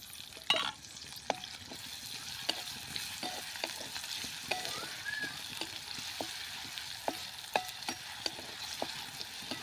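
Finely chopped onion frying in hot oil with already-fried peanuts for brinjal bharta, a constant close sizzle broken by repeated sharp clicks of a spoon stirring against the pan, with no talking.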